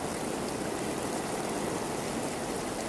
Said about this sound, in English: And this is how the first rain in our planet's history began.